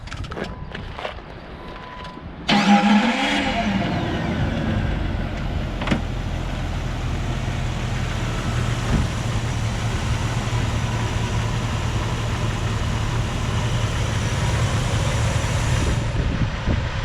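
A 2003 Jeep Wrangler Rubicon engine cranks and catches with a sudden burst, then settles into a steady, low, close rumbling idle that holds for over ten seconds.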